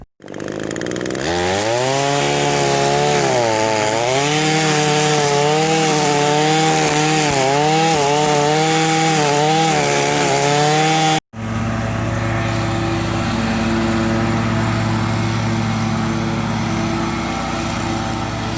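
Exmark Radius zero-turn lawn mower mowing grass at an apartment complex, its loud engine droning close by with rising and falling pitch, then cutting abruptly and resuming as a steadier roar.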